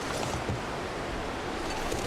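Wind in the snowy survival game The Long Dark, a steady, full-bodied rushing gust that holds evenly for a couple of seconds with no voices over it.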